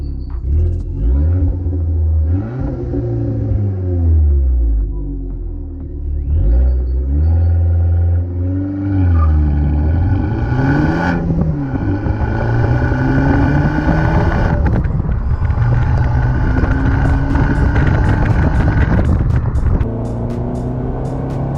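An Abarth 595 Scorpioneoro's 1.4-litre engine revs repeatedly, pitch climbing and dropping in several surges, then pulling hard under sustained acceleration, loud and close.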